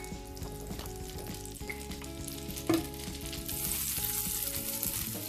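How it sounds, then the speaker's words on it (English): Steady sizzling of apples frying in butter in a pan, close up, with a brief stir partway through and the sizzle growing brighter toward the end. "Now in a new frying pan, I will fry the apples."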